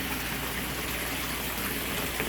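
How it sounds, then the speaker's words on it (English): Water from an aquaponics system pours steadily into a tank, a continuous even gush and splash with no pauses, fairly close and alone. "So now the water from the aquaponics system is being added"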